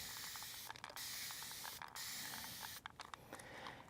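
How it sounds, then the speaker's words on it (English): A hand-held spray bottle misting water over freshly planted succulent seeds in soil, a steady hissing spray broken by short pauses and trigger clicks, close and alone with no talking. "the easiest way I find to water in your seeds after you've planted them is to use a spray bottle"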